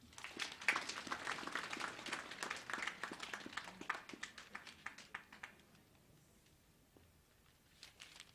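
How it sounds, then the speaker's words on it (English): An audience at the 46th Egerton University graduation ceremony applauds. The clapping is dense and lively at first, then thins to scattered claps before a few last ones. "Let us give another big round of applause for Musyoka for the good work and that good speech"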